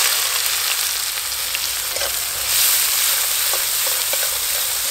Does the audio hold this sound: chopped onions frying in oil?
yes